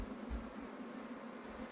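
Honey bees buzzing in front of a hive, a continuous low droning hum with slight swells, close by and fairly quiet, with no speech.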